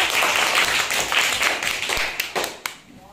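A group of children clap their hands in a classroom game, a burst of quick, uneven claps that thins out into a few scattered, sharper claps near the end.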